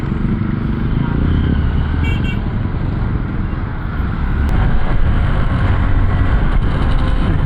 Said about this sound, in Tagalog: Sobrang solid ng motor na to.